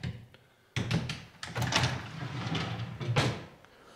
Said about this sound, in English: it's as simple as getting these drawers put in